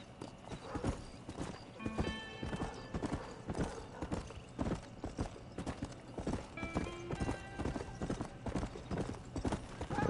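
Hooves of a horse in Red Dead Redemption clip-clop in a steady, fast galloping rhythm throughout, with a brief whinny partway through and again later, loud and close over faint game ambience.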